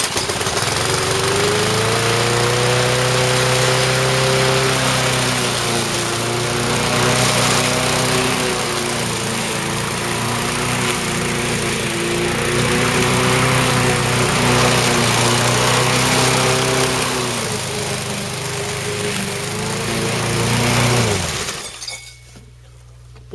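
A Wolf petrol lawn mower running loud and close, its small engine droning steadily with a rattling whine and slight surges, then cutting out abruptly near the end.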